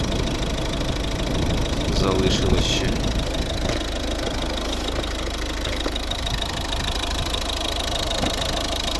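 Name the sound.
1.6 diesel car engine idling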